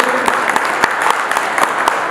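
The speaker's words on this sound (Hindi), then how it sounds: "जोरदार ताली के साथ स्वागत करें।" An audience at a cable operators' association oath-taking ceremony in Udaipur claps steadily, a dense, loud patter of many hands with a few sharper individual claps standing out.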